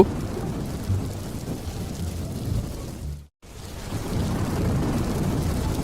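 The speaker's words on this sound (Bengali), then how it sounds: "আজ বৃষ্টি দেখছি খুব বেড়ে গেছে" Heavy rain pours steadily in a dense roar, with a low rumble of thunder; the sound cuts out briefly in the middle, then resumes.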